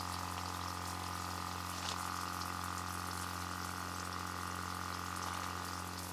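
Water pumped through a Joolca portable hot camping shower runs in a steady continuous hiss and spray, with a constant pump hum beneath and no talking.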